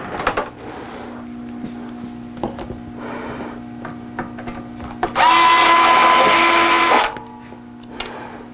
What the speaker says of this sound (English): Where's my electric screwdriver?